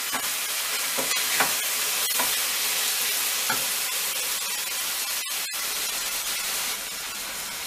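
Minced meat and tomatoes fry in a pan, seasoned with salt, producing a loud continuous sizzling hiss with a few stirring scrapes and a couple of sharp clicks near the end.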